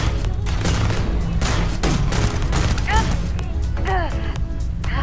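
Power Beat gun in the video game Starfield firing repeatedly from the hip in a dense, loud burst of heavy shots over thumping game music, with swooping electronic effects.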